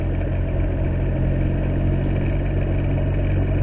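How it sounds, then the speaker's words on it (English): A big-engined motorcycle, still being run in, pulls hard as it gathers speed, its steady low engine drone loud and close throughout. "But it picks up speed with this big engine so well."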